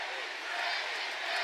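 Arena crowd at a boxing match between Deji and Jake Paul, a dense roaring chant from thousands of fans, loud and sustained without a break.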